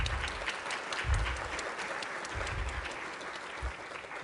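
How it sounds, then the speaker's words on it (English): Audience applause at a 2023 Prelude ceremony, a broad steady wash of many hands clapping through the whole stretch, with low thumps from the hall underneath and no voices. "So give yourselves a round of applause."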